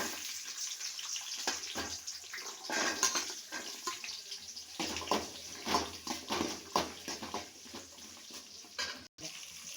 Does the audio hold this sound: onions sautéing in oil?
yes